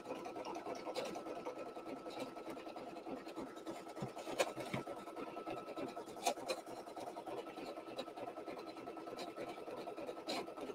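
Embroidery machine stitching a mug rug in the hoop, a steady fast mechanical buzz with a rasping texture and a few sharper clicks, continuous and moderately loud.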